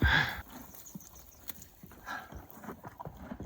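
Horses walk on a trail in Tenerife, their hooves giving faint scattered clip-clops, with a brief louder burst of noise at the start.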